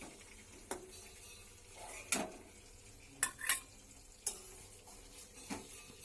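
Rohu fish pieces being lightly fried in oil in a home kitchen, a faint background sizzle broken by sharp scrapes and clinks of a spatula against the pan at irregular intervals.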